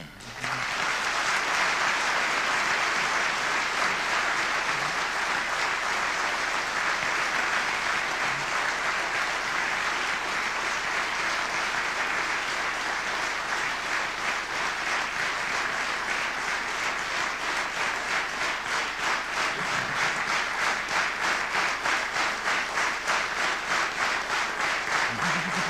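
Long, sustained applause from a large audience at an award gala fills the hall, a steady dense roar of clapping that carries on for nearly half a minute with rhythmic beats emerging toward the end.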